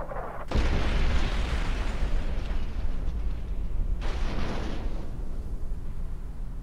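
Loud, booming explosions in the video game Fallout New Vegas, a sudden blast followed by sustained rumbling, with a second burst a few seconds later as the roar continues.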